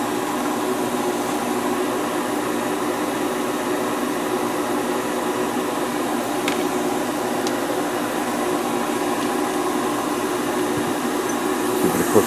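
An airbrush sprays paint onto a 1/100 Master Grade Gundam Heavyarms model, a continuous close hiss of air holding steady for several seconds with no talking.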